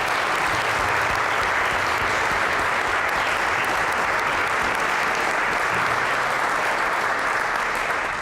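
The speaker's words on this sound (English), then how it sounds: "let's give another round of applause to all the teams that put in the hard work." Sustained, loud applause from a business pitch competition audience honoring the pitch teams, a dense steady roar of many hands clapping together throughout, with no break or voices standing out.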